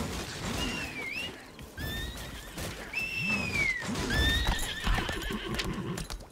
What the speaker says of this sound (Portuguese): Viu esse cavalo?